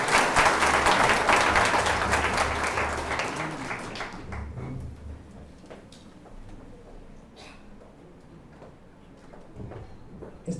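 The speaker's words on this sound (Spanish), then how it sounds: "Un fuerte aplauso para todos y para ustedes" Audience at an extraordinary assembly of accountants breaks into a strong round of applause, loud and dense at first, then thinning into scattered claps and room noise.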